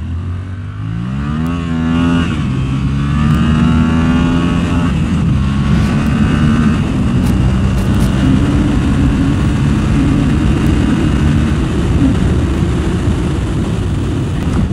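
Yamaha MT-07 motorcycle engine accelerating on a test ride, loud close exhaust rising through several gears with climbing revs, then holding a strong steady drone with wind rush.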